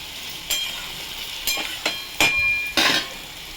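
Boiled potatoes with a little sugar stirred in a pan, several distinct scraping strokes of a spoon against the metal at irregular intervals over a faint sizzle, close and fairly loud.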